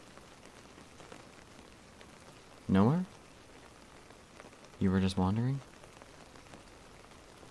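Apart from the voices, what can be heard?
rain falling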